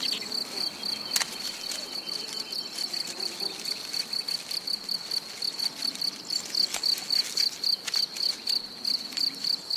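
Crickets in a meadow near a hedge trill in a steady, continuous high chorus with rapid pulsing, close and fairly loud, with no voices.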